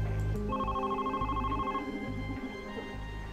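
A phone in the video game The Red Strings Club rings with a repeating electronic trill, moderately loud, over low synth music.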